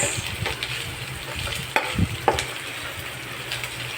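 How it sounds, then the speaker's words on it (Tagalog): Pork sautéing with garlic and onion in a pan for Filipino pakbet: a steady close sizzle, with a few sharp scrapes and knocks of a spatula as it is stirred. "ginigisa na po natin yung ating pork. Sasangkot na natin. Add na po natin yung ating bawang at sibuyas."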